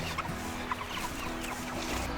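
Chickens cluck inside a backyard chicken tractor made of cattle panels, a dense, continuous chorus of close, overlapping clucks and squawks with no talking.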